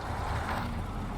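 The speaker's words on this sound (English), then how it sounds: "start the engine." A heavy old Russian truck's engine in the SnowRunner off-road driving game, a steady loud low rumble throughout a brief stretch with no talk.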